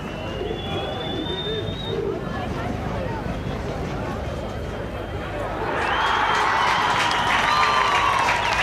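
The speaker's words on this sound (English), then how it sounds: "Applauded to the rafters by all of the boys who have come up from Port Elizabeth" A schoolboy crowd at a rugby match between Grey College and Grey High bursts into loud applause and cheering after the Grey PE war cry, swelling over the stadium noise and crowd murmur.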